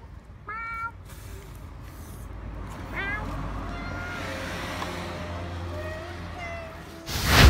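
A kitten gives a few thin, high meows, one early and one near the middle, over steady background noise, ending in a sudden loud rough burst.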